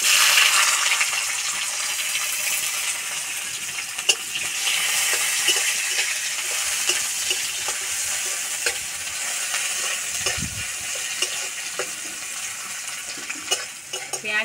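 Chopped onion fries in mustard oil with bay leaf and five-spice seeds, a steady close sizzle broken by scattered clinks and scrapes of a spoon stirring in the pan, with no voices.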